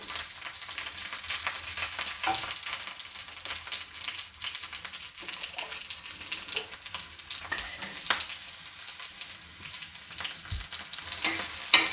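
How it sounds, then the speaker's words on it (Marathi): Green chillies roast in a pan for Kolhapuri thecha. A close, continuous sizzle and crackle runs throughout, with frequent stirring and scraping in the pan and no voices. "बघा मिरच्या आपल्याला छान भाजून घ्यायच्यात एकदम"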